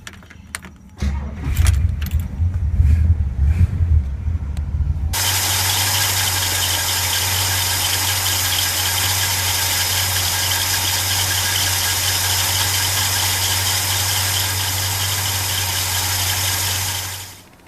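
A car engine cranks and starts after a few seconds of jangling keys, then settles into a steady, loud idle that runs unbroken through the rest of the clip, with a high whine above it, during a transmission fluid flush through the radiator.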